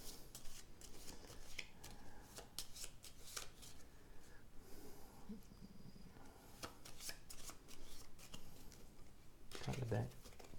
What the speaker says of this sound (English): Cut the deck, flip it over.